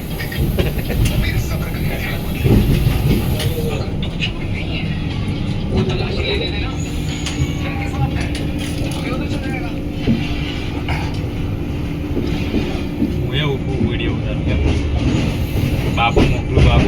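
A train rumbles and clatters along the rails from inside a carriage, steady and loud, while people talk over the noise.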